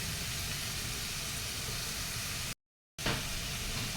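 Ingredients sautéing in a hot pan, a loud, steady sizzle and hiss that cuts out briefly near the end and then resumes just as strong.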